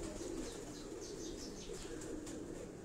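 Pigeons cooing on a rooftop in Karachi's Defence area, a steady low, throaty cooing that runs continuously and fairly faintly, with no talk over it.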